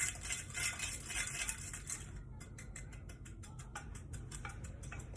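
A utensil stirring a tofu mixture for oil-free baked tofu, a soft scrape that turns into quick, regular clinks and scrapes against the bowl, faint and close.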